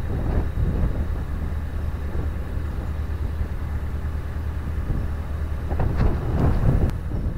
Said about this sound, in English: I haven't got to put up with this wind for too much longer